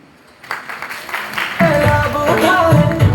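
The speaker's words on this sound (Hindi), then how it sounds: "आज सुनील जी के लिए आप बिल्कुल सारे लोग खड़े होकर, इनके लीडरों के लिए खड़े होकर दिल से ताली बजाओ" Standing applause from a crowd at an RCM business meeting, building after a quiet start and swelling louder, with music and singing joining over the clapping.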